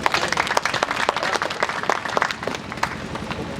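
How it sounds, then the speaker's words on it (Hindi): An audience at a Hindi poetry recital breaks into applause, a dense patter of many hands clapping close by that thins out toward the end. "एक बार तालियां बजाइए।"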